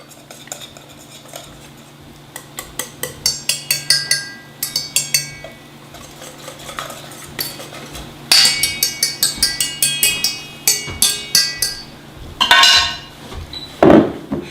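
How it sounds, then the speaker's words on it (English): Homemade orange syrup being whisked in a bowl, a metal whisk ticking against the sides in quick rhythmic bursts of clinks, close and loud, pausing briefly between runs. "So you just want to whisk it up like that"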